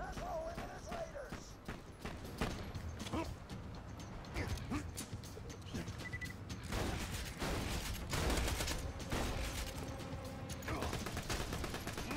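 Rockets fire repeatedly in a video game, with rapid clustered bursts and mechanical clatter running continuously at a moderate distance while people talk over it.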